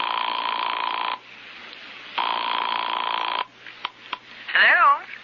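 An old-style telephone rings in two long electronic bursts in a radio drama, followed by a receiver being picked up with clicks and a short warbling tone, close and clear.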